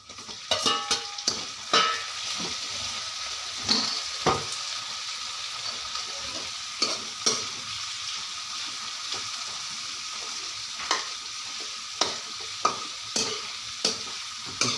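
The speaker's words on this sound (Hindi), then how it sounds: "अब डाल लेते हैं अपने टमाटर" Tomatoes fry in a pan with a soft, steady sizzle, broken by repeated clicks and taps of a spoon stirring against the metal, fairly quiet and close.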